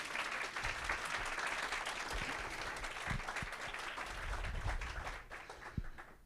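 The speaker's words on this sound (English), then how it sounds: "So maybe a quick round of applause for Malcolm here." A lecture audience gives a steady, dense round of applause, many hands clapping together at moderate loudness, continuing evenly and tapering slightly near the end, with no speech over it.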